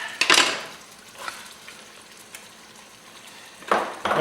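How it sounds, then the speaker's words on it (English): Onions and carrots sizzle in hot oil in a Dutch oven, with two louder bursts of frying and stirring at the start and end and a quieter steady crackle between. "We're going to go ahead and add our onions and our carrots to it."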